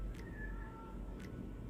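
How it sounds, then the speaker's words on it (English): A pet cat meows in another room, two faint, distant cries about a second apart over low background hum. "Can you hear my cat?"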